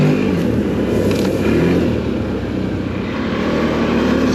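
A 2025 CFMOTO Cforce 800 Touring ATV engine drones steadily while riding through mud, a loud, continuous low rumble with slight throttle swells and no talking.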